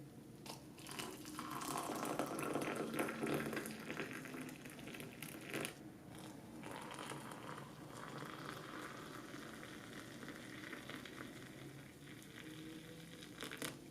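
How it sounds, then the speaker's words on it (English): Hot water pours from an Aroma AWK-165M 1.7-litre electric kettle into a cup, a soft, hissing, bubbling stream heard close and quiet. It swells early and then continues steadily for several seconds, with no voices. "The spout is designed well. There was no dripping when pouring."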